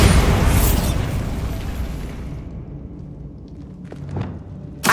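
A Bombarda spell detonating in Hogwarts Legacy: one loud, booming explosion that hits at once, then rumbles and fades, ending in a few small pops and a faint thud.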